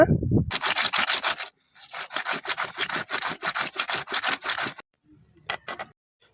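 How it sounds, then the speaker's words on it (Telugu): Kana kanta fish being scrubbed hard against a stone slab: rapid rhythmic rasping strokes in bursts, close and loud, then a pause and a few weaker scrapes near the end. "నా బండకేసి బరకతున్నా కానీ చాలా గట్టిగా అయితే ఉన్నాయి"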